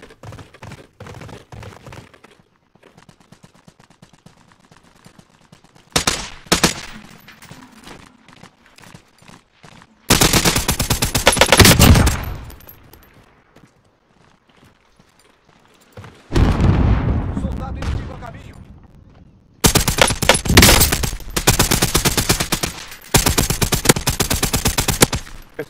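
Sharp bursts of gunfire in Call of Duty: Modern Warfare (2019) come in loud clusters, rapid volleys separated by quieter stretches with a voice talking over the game sounds.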